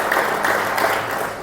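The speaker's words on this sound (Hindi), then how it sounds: "इनके लिए भी ताली बजा दो।" An audience at a yoga and wrestling event claps steadily in dense, continuous applause, loud and close, with no talking over it.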